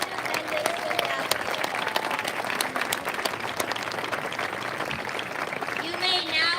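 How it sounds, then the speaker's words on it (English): A crowd at a fifth-grade school promotion ceremony gives sustained applause for the families, a thick, even patter of many hands clapping that fills the hall throughout. "Please give a round of applause to all these wonderful families."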